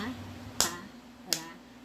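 Two sharp, single hand claps ring out about three quarters of a second apart over a faint background hum, marking syllables during a Grade 1 Filipino language lesson.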